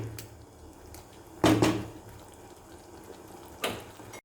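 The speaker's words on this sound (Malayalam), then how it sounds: "നമുക്കിനി സ്റ്റൗ ഓഫ് ചെയ്യാം" A gas stove knob is turned off while making potato masala, giving a few sharp knocks and clicks with a louder pair of close taps, then a final click, over quiet kitchen background.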